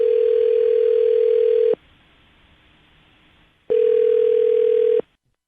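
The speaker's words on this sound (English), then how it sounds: "I'm going to dial his phone number right now and see if he picks up" A steady electronic telephone ringback tone sounds twice, each burst about a second and a half, separated by a quiet gap, clear and close.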